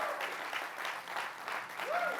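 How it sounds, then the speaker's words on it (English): Applause from the audience at an NFL 49ers State of the Franchise event, a moderate, even patter of clapping with a faint voice briefly audible underneath. "let's give a big round of applause for everybody that was here tonight"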